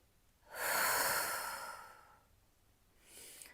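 A slow, audible breath during a Pilates deep-abdominal exercise: one long airy exhale lasting about two seconds, followed after a pause by a shorter, softer breath, close and without talk.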